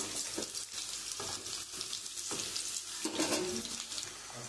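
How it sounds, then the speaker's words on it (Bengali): Cumin seeds, bay leaf and whole garam masala spluttering in hot oil for a fish-head muri ghonto, a loud continuous sizzle with crackling bursts and occasional stirring scrapes close by, no voices. "আমি জিরে, তেজপাতা আর গোটা গরম মশলা আমি ফোড়ন দিয়ে দেবো।"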